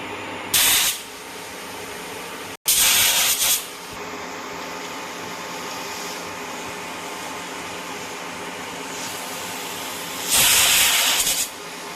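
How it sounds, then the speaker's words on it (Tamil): Pressure cooker releasing three loud, sharp bursts of hissing steam while garlic porridge cooks, each burst lasting about a second, over a low steady kitchen hum. "குக்கரில் மூடி போட்டு ஒரு 3 விசில் இல்லைன்னா 4 விசில் இருந்தால் வரும்"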